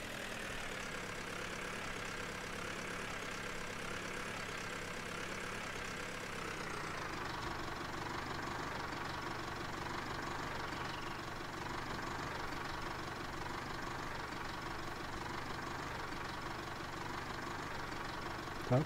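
Old tractor engine idling in Farming Simulator 19, a steady low mechanical drone that drops to a quieter, duller tone partway through and then runs on evenly.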